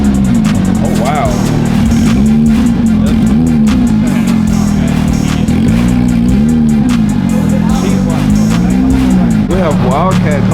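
Supercars at a car show, an engine roaring loud and close with a rising and falling rev note as one pulls in, and people talking over the noise.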